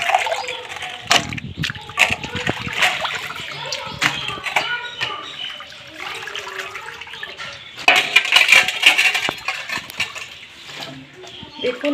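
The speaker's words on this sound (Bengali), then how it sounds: "তবে আবারও একটু ভালো করে এভাবে হাত দিয়ে ঘষে ঘষে ধুয়ে নেব।" Potatoes washed in water and rubbed by hand, making continuous splashing, sloshing and knocking against a bowl, with louder bursts of churning water partway through.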